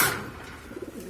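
Road Master racing pigeons from a breeding pair coo softly in a loft, a few low throaty coos rising after a brief noisy start, close and fairly quiet.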